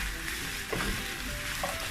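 Steady oily sizzling of peppers frying in a pan, continuous and fairly loud, with a couple of brief stirring scrapes.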